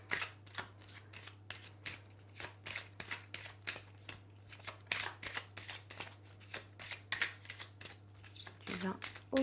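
Tarot cards being laid out and shuffled, a steady series of crisp, close card flicks and slaps in quick rhythm, with a quiet voice talking in French between them.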